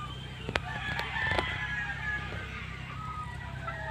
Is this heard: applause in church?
no